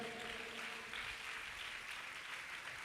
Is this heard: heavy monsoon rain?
no